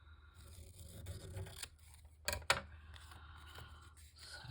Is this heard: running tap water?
no